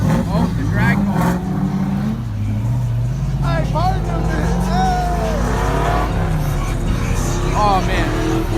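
A drag car at a busy night car meet revs and roars nearby, its engine note rising and swooping over a steady low rumble, while people nearby talk and exclaim over it.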